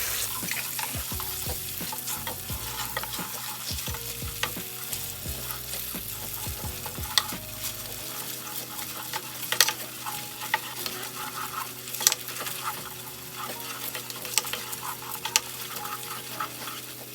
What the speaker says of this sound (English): you're just going to mix and stir this down until it turns into a nice liquid